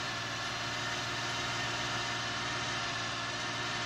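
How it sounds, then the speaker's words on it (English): Tractor engine over-revving in a farming simulator game, a steady high droning hum with a constant low tone, held evenly and fairly loud throughout with no talk. "I am over revving"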